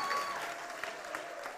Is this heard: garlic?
no